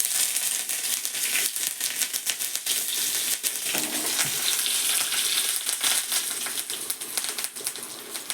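Mustard seeds fry in oil for sambar, giving a continuous close sizzle with dense, rapid crackles and pops all the way through.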